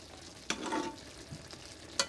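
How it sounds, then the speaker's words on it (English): King steak fish sizzles in a pan as it is basted with its cooking juices, a quiet steady crackle broken by a few sharp spoon scrapes and splashes. "I'm just basting it here with this tasteful juice."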